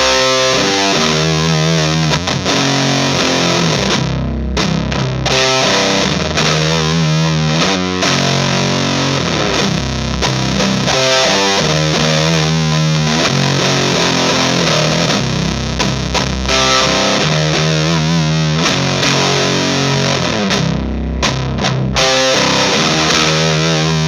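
Heavy distorted electric guitar riff through an Audio Surplus OK DOOMER distortion pedal, loud and continuous chugging chords with brief stops, played alone.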